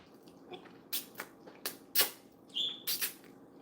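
Someone eats a home-cooked pasta comfort meal, with a handful of soft, close wet chewing and slurping noises at irregular moments against a quiet room, and no talk.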